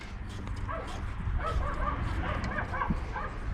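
A dog barks and yips repeatedly at a moderate distance, in a series of short, uneven bursts over a background murmur outdoors where a telehandler is being serviced.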